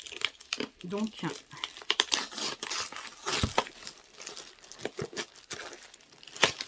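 Plastic wrapping crinkles and tears as packaged storage boxes for scrapbooking supplies are unwrapped up close, the rustling running steadily under someone talking in French.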